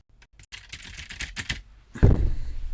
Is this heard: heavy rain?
no